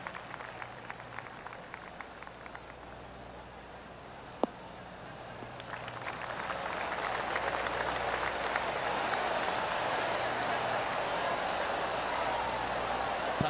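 Golf crowd applause in the PGA Tour 2K23 video game, starting as sparse claps and swelling into steady clapping that carries on to the end, with a sharp click near the middle.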